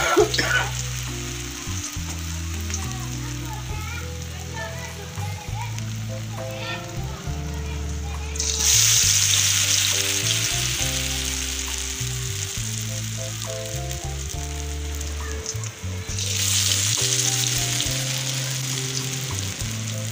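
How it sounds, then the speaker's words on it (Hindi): Chicken pieces drop into hot oil in a small pan and fry with a loud, steady sizzle that swells after each addition. Someone speaks and background music plays throughout. "और ऑयल हमारा गरम हो चुका है। मैं चिकन डाल रही हूँ।"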